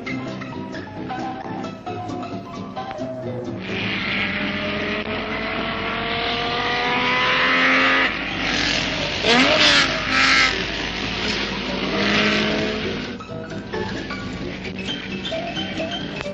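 Racing cars at the 1959 Charade circuit Formula 2 race pass close by, engines rising to a loud roaring peak and fading again, several passes over a background murmur.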